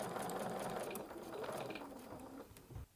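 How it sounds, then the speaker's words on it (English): A sewing machine runs steadily while stitching a fabric seam during chain piecing, a continuous close mechanical whir that slows and stops at the end, with no talk. "And just sew your first seam."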